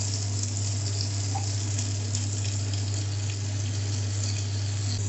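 Chopped onions and tomatoes fry in a pan for chilli chapati made from leftover flatbread, giving a steady, even sizzle and hiss over a low constant hum, with no talk.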